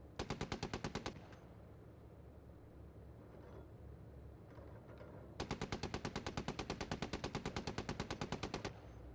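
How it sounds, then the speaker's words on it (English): A .50 caliber machine gun mounted on an M113 armored vehicle in a military video game fires two rapid sustained bursts of evenly spaced heavy shots, a short one first and a longer one after a pause, over a low vehicle rumble. "113 with a 50 caliber machine gun."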